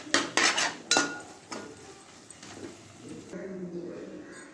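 Papaya bread halwa made with ghee being scraped from a pan into a bowl: a burst of sharp spoon-on-metal clinks and knocks at the start, then softer intermittent scraping.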